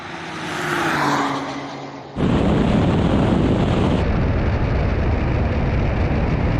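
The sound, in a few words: drag race: Honda NSX, Nissan GT-R Nismo, Porsche 911 Turbo S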